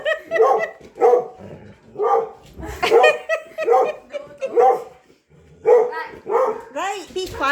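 Puppies bark and yip in repeated short bursts, close and fairly loud, with a few brief whimpers between the barks and a stretch of quiet near the middle.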